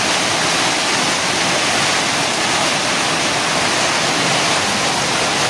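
Rain from a heavy hailstorm in Nairobi makes an unbroken, hissing wash of sound, loud and even from start to finish, with no voices.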